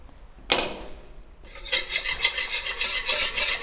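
Butter being stirred into a pot of yogurt soup with meatballs, a spoon rubbing and scraping the pot in a steady repeating rhythm after a brief clink, close and alone.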